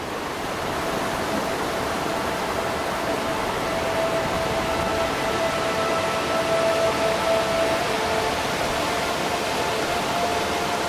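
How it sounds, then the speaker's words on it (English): A waterfall in Western Brook Pond Gorge, Gros Morne National Park, Newfoundland, gives a constant, dense rush of falling water heard close and loud, unbroken throughout with no voices. "we just stopped for lunch here by a waterfall."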